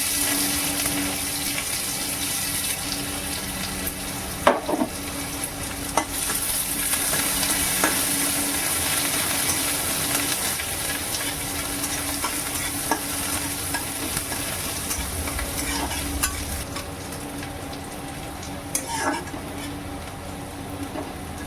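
Onions frying in a pan, a loud close sizzle with frequent stirring scrapes and a few sharp knocks of the utensil against the pan.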